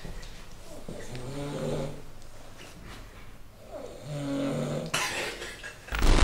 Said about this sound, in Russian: Он спит, блядь, и храпит.